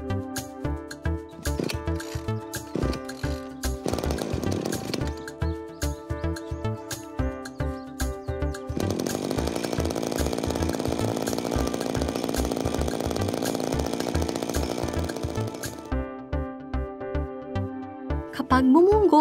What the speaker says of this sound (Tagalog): Ilapag sa lupa ang grass cutter sa kahilahin ang starter rope para paandarin ito.